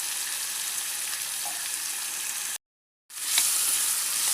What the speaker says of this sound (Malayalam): ഇത് വഴുതനങ്ങ എല്ലാം ഫ്രൈ ചെയ്തെടുക്കാം